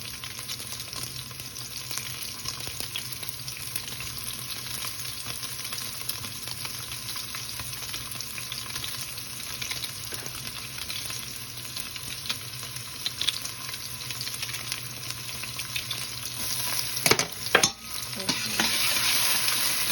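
Sliced onion and garlic sweating in a pan on a turned-down stove, with a steady soft sizzle and occasional stirring scrapes running throughout, plus a few louder clatters near the end.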